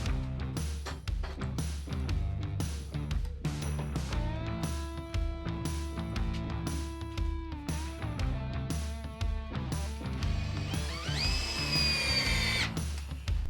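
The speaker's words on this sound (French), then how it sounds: "dans un mur de briques, il faut transférer les trous et les percer" A power drill bores holes into a brick wall to mount a track for glass sliding doors, revving in repeated bursts with steady whining stretches and a rising pitch near the end, loud and close, with no talking.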